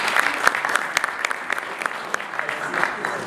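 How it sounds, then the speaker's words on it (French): Applause at a sponsorship signing ceremony between the Ittihad Tanger club and APM Terminals, a crowd of hands clapping loudly and steadily, with individual sharp claps standing out against the dense patter. "Il faut l'applaudir."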